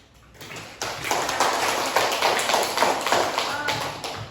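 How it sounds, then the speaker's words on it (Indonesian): Children clap together in a classroom quiz session, a brief burst of scattered, uneven claps that swells after a quiet start and continues with faint talk and shuffling underneath. "Kalau benar tepuk tangan bersama ya."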